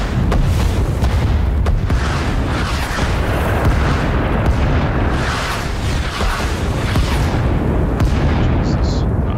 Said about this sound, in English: that artillery is powerful